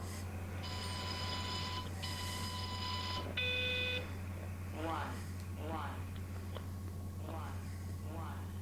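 A phone ringing in the video game Everybody's Gone to the Rapture, a few electronic ring tones in quick succession followed by faint chirping birds over a steady low hum.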